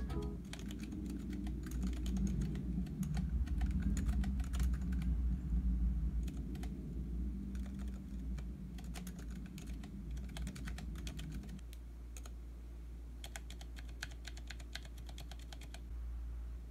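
Steady typing on a Kyria custom split mechanical keyboard, a dense run of clicky keystrokes heard alone and close, with a low background rumble that drops away partway through.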